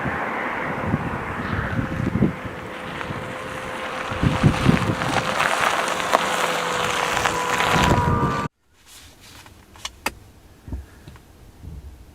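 A Ford Mustang Mach-E electric car sets off with a soft, smooth hum under wind and road rush, a faint rising whine running through it before the sound cuts to near quiet.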